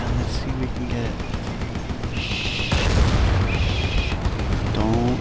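Mortar strike in a video game with tanks: distant booms and gunfire, then a heavy, loud impact roughly midway, followed by continued rumbling blasts and whistling tones.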